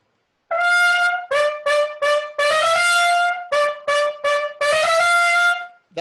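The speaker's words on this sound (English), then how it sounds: "Here are the first three parts of trumpet." Several trumpets play bright, punchy marcato notes in a rhythmic pattern of short hits and held blasts, loud and close with no talking.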